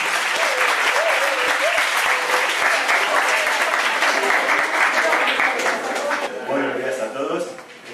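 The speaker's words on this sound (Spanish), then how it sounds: "vamos a dar un gran aplauso" An audience claps for an author at a literary event, with loud, dense and sustained applause that thins out near the end as a voice begins speaking.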